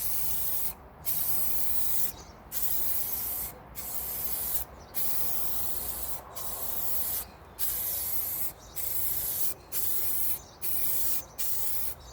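An aerosol or spray gun applies a second coat of paint to a panel on a Daihatsu Materia, a loud close hiss in about ten bursts of a second or so, separated by brief pauses.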